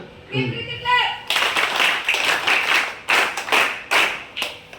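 Schoolchildren at a municipal high school in Nidadavolu break into loud, close group clapping after a brief voice. The applause comes in uneven bursts that rise and fall.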